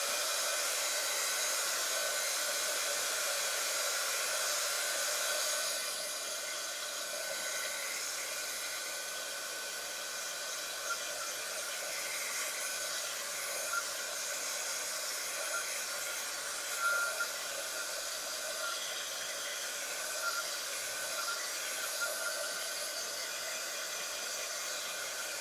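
A hair dryer blowing on a wet painted page, a steady close whoosh that runs continuously for the whole stretch, easing slightly in loudness after the first few seconds.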